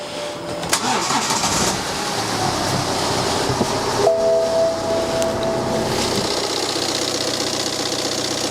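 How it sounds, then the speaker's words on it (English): A car engine cranks and catches, then settles into a steady idle that rumbles on close by, with a brief high whine partway through. "let's get the engine fired up and see if we have any issues"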